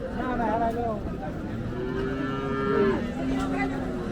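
Cattle at the Hazratpur cattle market low in long, drawn-out moos, one loud and close, over a steady crowd murmur.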